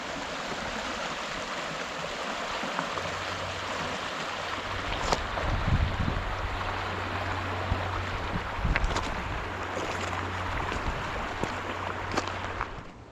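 Steady broadband rush of creek water where the middle and main branches of White Clay Creek meet, a national scenic river in a Pennsylvania state park preserve, continuous and fairly close with a low rumble underneath and no talking.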